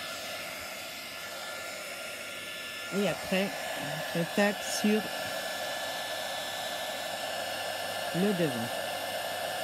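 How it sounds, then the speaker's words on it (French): A heat gun blowing steadily at close range to puff up embossing powder for a snow effect on a papercraft project, a constant airy roar beneath brief quiet speech from a woman. "il faut la faire gonfler au heat gun."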